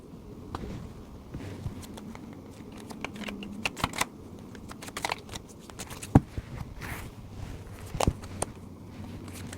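Tarot cards are handled and spread across a surface, giving irregular close flicks, soft slaps and small taps scattered throughout, with quiet rustling between them.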